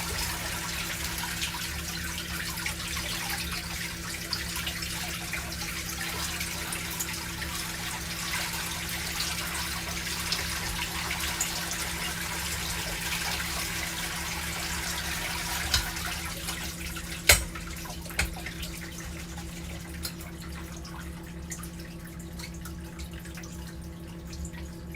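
Tap water runs steadily over wild rocket being washed in a sink, a soft, continuous rushing with a few light knocks and clicks near the end.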